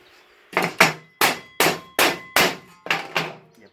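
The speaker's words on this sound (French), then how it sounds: "il n'y a pas de problème, on peut taper dessus" Hammer tapping on freshly MIG-welded metal: about eight sharp, ringing metallic strikes in a steady rhythm, close and loud, with a short pause after the first blow.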